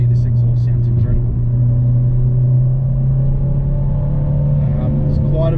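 Collins Performance car exhaust accelerating, a steady low droning rumble with a strong bass tone that holds throughout, close and loud, with faint voices over it.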